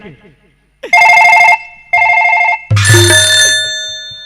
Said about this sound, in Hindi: हमारे थाना का फोन लैस लैस करता है।